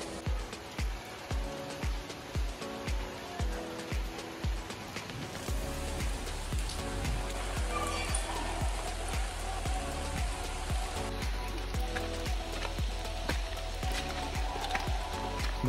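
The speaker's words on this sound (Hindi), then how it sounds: "बारिश लगभग रेगुलरली आ रही है देखो" Rain falling steadily outdoors near a Shiva temple at Rameshwar Mahadev in Bundi, a dense continuous patter with a brief stretch of rhythmic steps or drips at the start, steady and moderately loud throughout.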